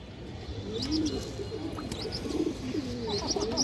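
Pigeons coo in soft, repeated throaty calls close by, mixed with light chirps, over a low steady background hum and no talking.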